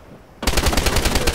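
An MK200 machine gun fires in a first-person shooter king-of-the-hill match, a sudden rapid burst of evenly spaced, loud shots starting after a short quiet moment.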